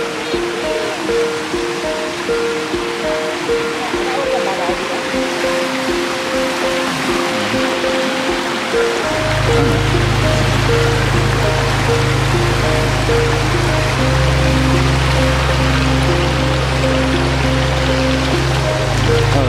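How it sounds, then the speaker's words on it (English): A waterfall in the Blue Mountains pours as a constant broad rush of falling water, loud and unbroken throughout, with steady musical tones sounding over it. "we've just arrived at the waterfall that we've been spending hours looking for"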